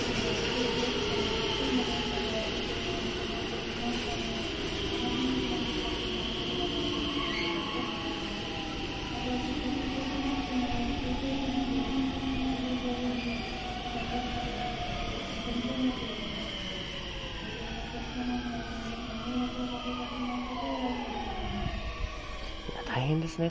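JR Shinkaisoku rapid service train bound for Himeji, a 223 series 2000 subseries, moving through Yamashina station amid snow delays, with long tonal whines from its motors shifting in pitch and a steady rumble of wheels on rail.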